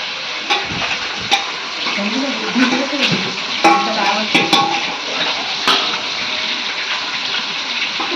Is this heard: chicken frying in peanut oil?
yes